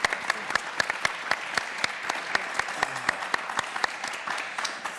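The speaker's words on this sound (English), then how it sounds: "So massive round of applause for everyone." Conference audience in Narva, Estonia applauds panelists at an international security and civil society event, with dense, steady clapping from many hands, close and sustained throughout with no talk over it.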